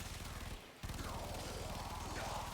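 Assault rifle fire in the video game Warframe: a dense, continuous stream of rapid shots, briefly interrupted by a short pause before resuming, fairly quiet and steady with no talk.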